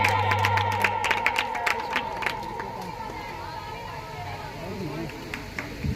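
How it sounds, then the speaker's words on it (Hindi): An audience at a school Teachers' Day award ceremony claps, a scattered burst of applause that is loudest at the start and then thins out, with crowd chatter around it. "कृपया ताली बजाते रहे।"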